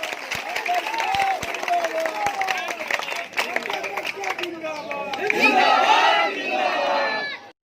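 Villagers at a rural election campaign rally cheer and shout together, a loud crowd roar that swells toward the end with scattered clapping mixed in, while a voice speaks over the first part.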